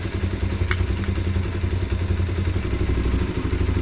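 Motorcycle engine with a fault in the ECM/ECU, running steadily after its voltage regulator is unplugged, giving a continuous low mechanical drone with light clatter throughout and no rise in revs.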